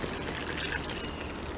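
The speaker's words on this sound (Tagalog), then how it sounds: "bali 1 cup siguro na na tubig ang ilalagay ko" About 1 cup of water is poured into a cooking pot for mongo with langka, a continuous splashing trickle heard close and steady throughout.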